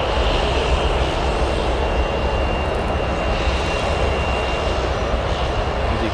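An airplane engine drones loudly and steadily at O'Hare Airport, a continuous close roar with no voices.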